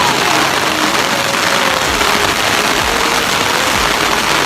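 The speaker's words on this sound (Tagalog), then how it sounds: "Grabe ulan." Heavy rain pours steadily outdoors in Japan, a dense continuous hiss with low rumbling, loud and unbroken throughout with no talk.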